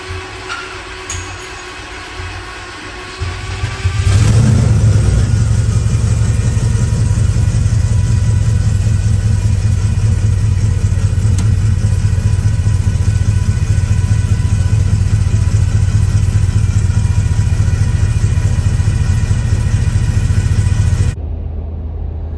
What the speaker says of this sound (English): we did get the truck started. However, notice right when we started up, it was kind of idling funny